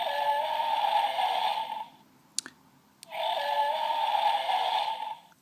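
A Jurassic Park 3 T-Rex toy plays its damage sound effect twice, each a steady electronic tone about two seconds long, separated by a short pause with a couple of faint clicks from pressing the button.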